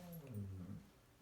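A dog whimpers briefly nearby indoors, a short rising and falling whine heard alone in a quiet room.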